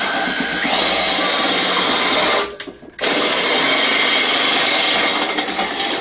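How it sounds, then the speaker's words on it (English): A power drill whirs loudly and steadily as it turns an adjustable floor drain, stops briefly for a moment, then starts up again and keeps running. "you can use a drill like this"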